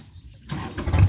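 A Kubota tractor stuck in mud starts its engine, which catches with a loud close rumble and rises into a heavy rev after a brief quiet moment.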